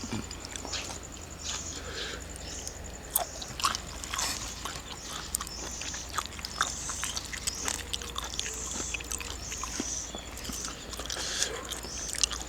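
Crispy grilled northern Thai sai ua sausage bitten and chewed up close, with a steady run of loud crunches and wet chewing throughout.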